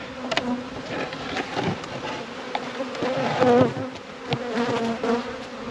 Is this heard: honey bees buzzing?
yes